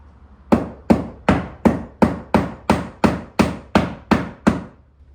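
Hammer blows while framing a house, about a dozen sharp, evenly spaced strikes on wood, close and loud with a brief ring after each.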